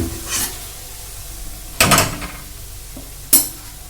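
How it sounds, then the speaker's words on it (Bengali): Thin, medium-cut potato strips fry in a wok with a low, steady sizzle, broken by three sharp scrapes and clatters of a spatula being stirred through them. No one speaks. "এবার কিন্তু আমাদের আলুটা কষে নেওয়ার পালা।"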